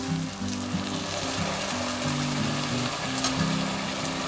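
Hot broth ladled into risotto rice keeps a steady, close sizzle going while the pot is stirred, under soft tonal background music and with no speech.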